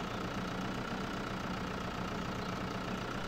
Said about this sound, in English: I was just saying how fantastic this Lamborghini tractor is.